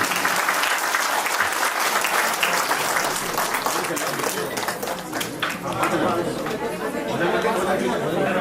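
Sustained applause from a large crowd at a Uttarakhand cultural celebration in Garhwal, continuous loud clapping with chatter and cheering voices mixed through it.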